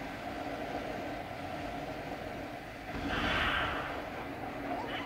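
A gator train rumbles along in the video game Yoshi's Crafted World, a steady low mechanical rolling with a brief brighter swell partway through, heard alone without talk.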